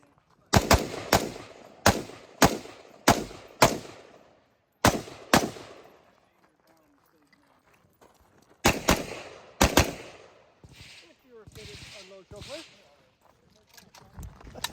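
Rapid AK rifle shots ring out during a competition stage at AK Masters 2024, loud sharp cracks in quick strings of four or five, then a pause and another fast burst, with a voice talking faintly during the gaps.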